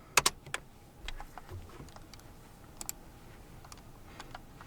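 Faint, sparse keystrokes on a computer keyboard, a few quick clicks clustered near the start and then scattered taps, quiet and close with no talking.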